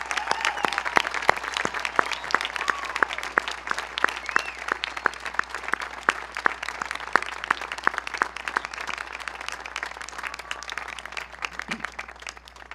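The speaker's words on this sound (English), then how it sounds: "Please join me in a round of applause and thanking them for our service." Sustained applause from a large crowd at a high school graduation ceremony honoring military veterans, with distinct individual claps standing out within a steady roar that holds for the whole stretch.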